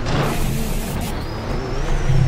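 A 2015 Williams FW37 F1 car engine in a video game drones loudly and then shifts as the anti-stall kicks in, with a thin whine rising over the steady low hum.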